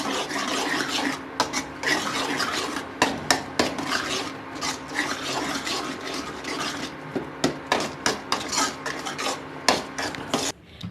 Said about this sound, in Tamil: உப்பு சேர்த்து நல்லா கிண்டி விட்டுக்கலாம்.